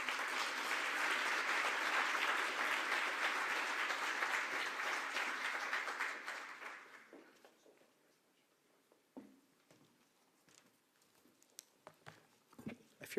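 A conference audience applauds in welcome of Toronto mayor John Tory, a sustained dense clapping that fades out after several seconds, leaving a quiet room with scattered small noises.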